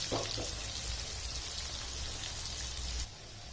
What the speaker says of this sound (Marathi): हे सर्व साहित्य आपल्याला छान खमंग परतवून घ्यायचं आहे